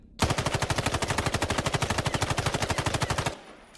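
Rapid automatic fire from an MK18 rifle in the battle royale game Islands of Nyne, one sustained burst of evenly spaced, punchy shots lasting about three seconds, loud and close, then abruptly stopping.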